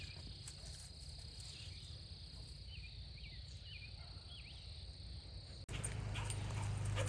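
A dog gives a few faint, high whines over a constant chirring of crickets outdoors.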